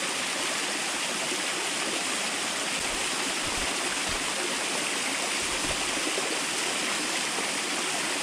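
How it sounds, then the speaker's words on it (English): Fresh water stream running past a mountain camp in Wales, a steady broadband rush of flowing water that stays even and close throughout with no voices. "I got some fresh water running down there"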